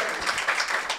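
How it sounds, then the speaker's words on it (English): An audience claps for a guest at a live in-conversation event with a rock band's frontman, the applause a brief, steady burst of many hands close by with no voices on top. "Round of applause."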